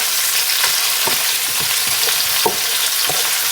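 Vegetables with olive oil, oregano and salt sautéing in a pan for an Italian Sunday dinner: a loud, steady, close sizzle with occasional soft scrapes of stirring, no talking.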